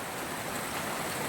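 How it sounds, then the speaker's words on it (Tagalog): Heavy rain pours during a flood, with floodwater rushing around a house under construction, forming a steady, dense wash of broadband noise that stays even and loud through the whole short stretch. "Ngayon, lakas ng ulan dito."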